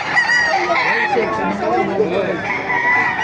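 A rooster crows loudly nearby, with clucking fowl and people chattering in the background.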